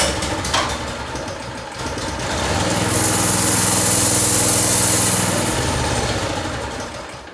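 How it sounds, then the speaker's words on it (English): A Harbor Freight Predator small engine with a replaced carburetor fires up, rising to a loud, steady high-pitched running drone for a few seconds before fading as it dies away. "So let's try again."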